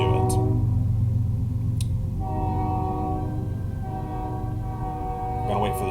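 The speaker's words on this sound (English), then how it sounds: "I'm going to wait for the train for a second" A train rumbles past nearby with a loud, sustained low roar while its horn sounds in long tonal blasts, and the rumble continues steadily throughout.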